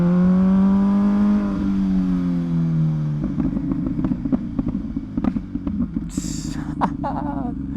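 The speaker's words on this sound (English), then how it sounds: "these pops will never get old" A warm Lamborghini Aventador Superveloce revs loudly, the engine tone rising then dropping off, followed by a rapid scatter of sharp exhaust pops and crackles close by.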